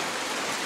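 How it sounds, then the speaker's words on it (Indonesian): Steady rain pours down in a village in Cisayong, Tasikmalaya, a dense, even hiss with no break or voices over the whole short stretch. "hujan lur"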